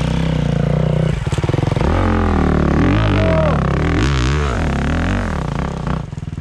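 A KTM motorcycle revs hard through its exhaust close by, rising and falling in repeated throttle blips with a rough, rasping engine note and some clatter.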